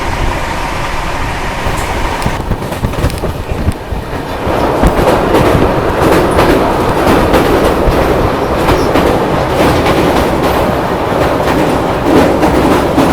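The Mahakaushal Express races along at high speed, its carriages rumbling loudly with a continuous rhythmic clatter of wheels over rail joints, growing heavier partway through.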